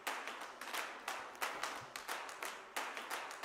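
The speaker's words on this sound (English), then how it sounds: "And then there's another clap loop from Stylus RMX." Clap loop from Stylus RMX, a rapid rhythmic pattern of layered hand claps repeating in a driving groove, bright and close, with no talk.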